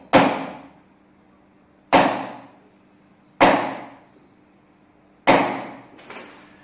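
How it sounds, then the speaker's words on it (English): A larger chisel is driven into wood with four sharp, evenly spaced mallet strikes, each a crisp knock with a short ringing decay, close and clear against quiet surroundings, with a faint extra tap after the last blow. "I'm going to use a larger chisel now first to cut the fibers of the wood deeper into the fibers of the wood"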